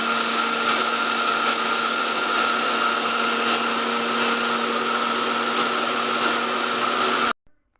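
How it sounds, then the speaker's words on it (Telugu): Mixer grinder whirs steadily as it grinds cooled roasted fenugreek seeds into powder, a loud continuous high-pitched motor drone running unbroken for about seven seconds before cutting off abruptly. "ఇవి బాగా చల్లంగా చల్లారిన తర్వాత వీటిని ఒక మిక్సీ జార్లో వేసుకొని మెత్తగా పొడి చేసుకోండి"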